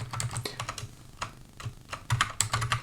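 Computer keyboard keys clatter in quick, uneven bursts of typing at close range, with brief pauses between short runs of keystrokes and no talking.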